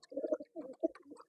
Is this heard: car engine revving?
no